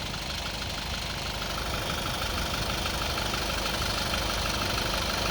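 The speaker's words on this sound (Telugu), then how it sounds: "ఆటోమేటిక్గా ఇంజన్ కూల్ అండ్ కామ్గా నార్మల్ అయిపోతుంది" A Toyota Innova Crysta engine with about two lakh kilometres on it idles after a carbon cleaner treatment, a steady continuous rumble with a faint rhythmic knock, close and unbroken, no talk.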